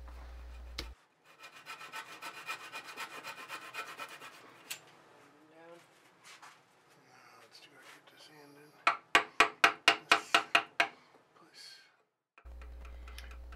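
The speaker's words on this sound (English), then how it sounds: "This is that shallow sweep gouge I'm using to pare off the dowels." A shallow sweep gouge pares glued wooden dowels flush on a handmade heirloom rocking horse, producing close scraping and shaving strokes, then a quick run of about ten sharp rhythmic taps, with quiet gaps in between.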